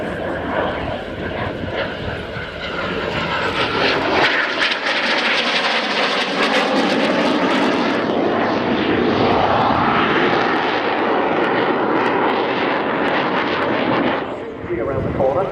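A 1960s Saab jet of the Swedish Air Force passes at an air show, a loud sustained engine roar and rumble that swells and holds, with voices talking over it.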